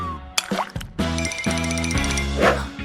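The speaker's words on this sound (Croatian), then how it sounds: "Bolje da je vratim u vodu." A cartoon fish dropped back into water makes a splashy plop and bubbly liquid sounds, set against bright tonal music that carries on throughout the short cartoon moment.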